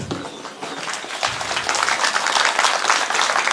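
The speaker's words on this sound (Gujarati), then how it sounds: "એને જોરદાર તાળીઓથી વધાવશી મિત્રો" A village crowd at an Aam Aadmi Party rally claps to welcome a speaker, the applause building from scattered hands into a loud, dense, steady roar.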